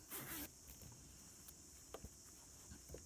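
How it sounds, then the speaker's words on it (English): An invisible zip in fabric is undone at a sewing machine, a short, close, rasping zip at the start, followed by faint taps and handling sounds over a quiet steady background hum. "I'm going to undo my zip."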